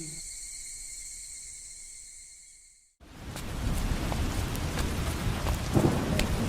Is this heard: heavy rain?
yes